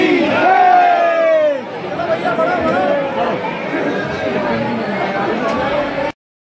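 A large crowd chatters and calls out at a temple in Mathura-Vrindavan, a dense, close babble of many voices with raised shouts that runs on steadily before cutting off abruptly.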